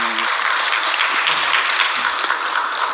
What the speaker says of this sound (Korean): 우리 기운 내라고 박수 한번 크게 보내주시기 바랍니다.